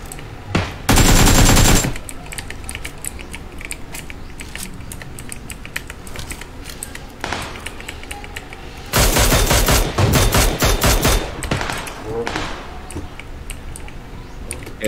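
Gunfire in a shooter video game, with rapid automatic bursts in two loud stretches and scattered single shots between them, close and punchy over a low background.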